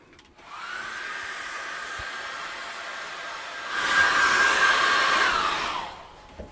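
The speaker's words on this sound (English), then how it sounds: "I'm just going to get the hairdryer on that." A hairdryer blows steadily on wet acrylic paint during a forest landscape painting session, a continuous whirring hiss that grows louder and closer partway through before switching off, with no talking.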